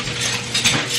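Metal forks and spoons clink and clatter against one another in a kitchen, a steady close rattle with a few brighter jingles, no voices.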